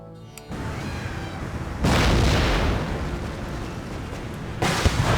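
Heavy artillery and mortar fire in the Empire: Total War video game, with dense rumbling booms rolling on continuously, swelling louder partway through and again near the end, with no voices.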